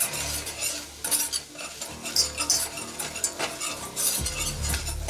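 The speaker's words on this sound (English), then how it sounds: "2 tablespoons of flour. Whisk that up." A whisk beats flour into a garlicky white Alfredo-style pizza sauce in a pan, making quick irregular scraping and clinking strokes over a faint sizzle, close and fairly loud with no talk.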